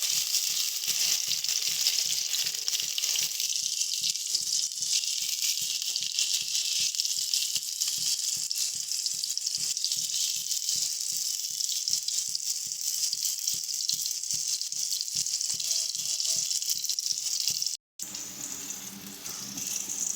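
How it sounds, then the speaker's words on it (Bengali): Steady, loud sizzling of potatoes frying in hot oil throughout, with a brief cut near the end before the crackle resumes. "আলু দিয়ে আলুটাকে ভেজে নেবো হালকা লাল লাল করে"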